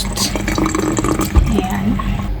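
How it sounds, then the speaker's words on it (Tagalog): Water runs and splashes as goat meat is set in a bowl of water to defrost, a steady close trickle with a murmur of voices underneath. "Ilagay lang natin yan siya sa tubig para ma-defrost."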